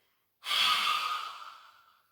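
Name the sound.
deep breathing out during yoga breathing exercise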